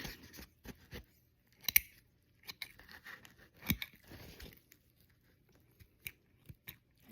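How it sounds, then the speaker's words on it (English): Small snips or scissors trimming loose thread fluff from a hand-sewn backpack strap: a series of sharp, close snipping clicks in irregular bursts, some louder than others, with quiet gaps between. "take your little snips or scissors, whatever you have, trim off the extra fluff"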